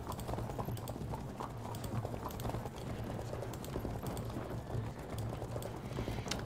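Cavalry hooves in the Field of Glory II video game make a continuous dense clatter of clip-clopping over a busy low battle rumble, steady throughout with no voices.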